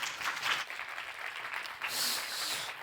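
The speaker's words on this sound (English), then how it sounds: "one more applause for your great presentation" Audience applause in a plenary hall at the Baltic Stakeholder Conference 2024, a soft, continuous patter of many hands at a moderate distance, swelling slightly toward the end.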